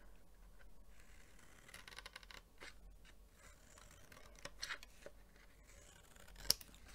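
Scissors snipping a notch in paper for a Christmas craft project, a few short crisp cuts close to the microphone, fairly quiet with no talking.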